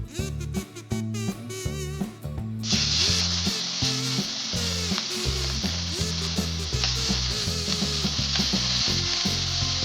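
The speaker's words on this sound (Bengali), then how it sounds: "কিছু পরিমাণ তেল দিয়ে নিচ্ছি মাছটা ভাজার জন্য।" Chanda fish coated in turmeric hits hot oil and sets off a loud, continuous sizzle that begins partway through. Background music plays throughout.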